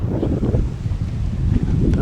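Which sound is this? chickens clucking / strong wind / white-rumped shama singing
strong wind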